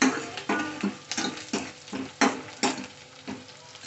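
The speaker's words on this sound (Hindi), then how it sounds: "तो ये हम इसको हल्का ब्राउन करने तक भूनेंगे प्याज को" Onions being fried until light brown for a matar paneer dish, heard as a quiet sizzle broken by regular scraping strokes of a spatula in the pan, about two per second, with no voices.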